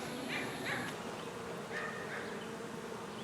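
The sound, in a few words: swarm of bees buzzing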